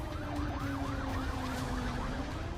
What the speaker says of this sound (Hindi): शहर में सायरन का शोर गूंज रहा है